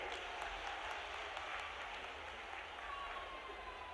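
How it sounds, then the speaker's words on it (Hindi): Crowd applause fills a political rally for Chief Minister Shivraj Singh Chouhan in Tikamgarh, a steady, dense wash of clapping that holds at an even level throughout, with some voices mixed in. "एक बार जोरदार ताली बजाइए।"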